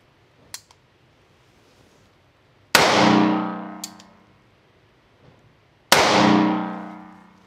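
A Bond Arms Stinger RS 9mm pistol fired at an outdoor range, two loud, sharp shots a few seconds apart with ringing decay, plus a few fainter clicks and knocks between them.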